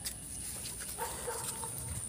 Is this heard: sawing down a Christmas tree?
no